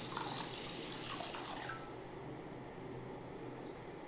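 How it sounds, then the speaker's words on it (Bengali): Water from a tap runs close by while white mustard seeds and two green chillies are rinsed. The stream is strong at first, then settles to a softer, steady flow with no voices. "এবার মশলাটা ভালোভাবে ওয়াশ করে নিতে হবে।"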